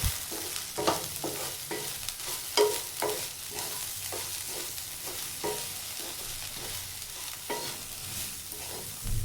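Okra fry stirred in a pan after salt goes in, regular scraping spatula strokes about once a second over a soft, steady sizzle, fairly quiet and close.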